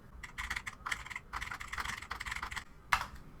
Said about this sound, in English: Again, I am typing here.